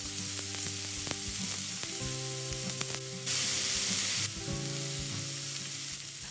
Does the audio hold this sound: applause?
no